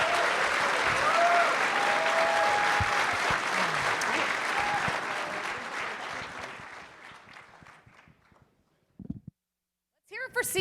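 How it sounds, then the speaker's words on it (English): An audience at a real estate challenge event applauds loudly, the clapping fading out over several seconds before a brief pause, with a voice entering near the end. "Can you give them a round of applause?"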